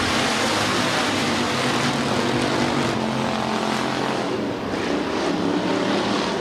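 Hobby stock race cars run under green flag racing at US 30 Speedway, a loud, steady, unbroken engine roar that fills the whole stretch with no voices over it.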